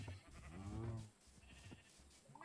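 Sheep bleating in the Minecraft video game on PS4: one drawn-out, wavering bleat rises loud and close, then fades into quieter game ambience with a few faint clicks.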